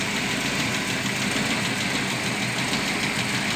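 A car engine idles steadily after a porous cylinder head was replaced with a full new set, giving an even, moderately loud running hum with a faint rhythmic knock and no voices.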